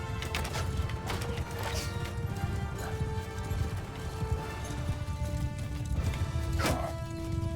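Horses gallop in a Mount & Blade II: Bannerlord battle, with dense hoofbeats, scattered impacts and clattering that stay continuous and fairly loud.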